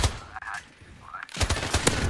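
Call of Duty gunfire crackles in short bursts, with a rapid volley near the start and a denser run of loud, close shots in the second half, a voice faintly present beneath.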